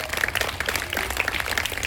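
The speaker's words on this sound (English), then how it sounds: "You give them a big round of clap" Students and audience at a school spelling bee competition give a round of applause for qualifying students, with brisk, fairly close clapping from a modest group lasting about two seconds.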